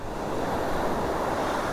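Steady roar of surf breaking on a Pondicherry shore, constant and full, with wind buffeting the microphone and no voices.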